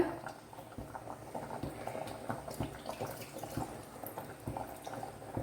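Tamarind water poured over sambar vegetables cooking in a pot, giving a steady bubbling, splashing liquid sound at moderate level with scattered drips, close by.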